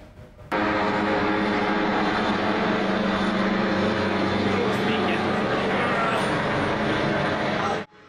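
A loud, steady helicopter engine roar with rotor drone as it lands on a stadium in Chișinău, holding for several seconds after starting abruptly, then cutting off near the end.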